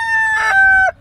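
A rooster crows close by in a backyard flock of laying hens, giving one loud, drawn-out call that drops in pitch at the end before cutting off, with no talk.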